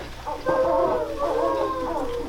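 A voice imitates owls hooting: a few soft, wavering 'hoo' calls, close and fairly quiet.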